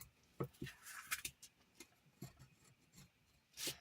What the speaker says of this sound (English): I'm going to burnish around the edges here just because I want to make sure that this stays down on my chipboard.